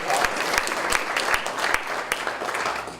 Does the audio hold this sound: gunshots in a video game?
no